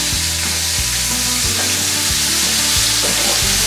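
Floured venison steaks fry loudly in a hot pan after being flipped, a strong continuous sizzle and crackle that fills the sound.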